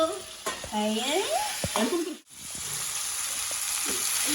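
Chicken meat frying in a pan and being stirred, a steady sizzle with scraping stirs under a voice, which fades briefly before the frying resumes.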